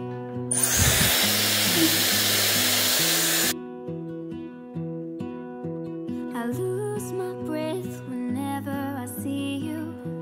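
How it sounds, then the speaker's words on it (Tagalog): A Dyson hair dryer blows a steady, loud whoosh of air for about three seconds, then cuts off as music carries on. "ito na yung hair dryer ko"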